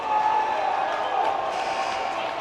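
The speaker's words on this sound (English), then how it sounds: "That draws applause." A crowd applauds and murmurs at a Blackman vs. Siegel prep boys basketball game, a dense, steady wash of clapping and noise from the stands, with a commentator's voice mixed in.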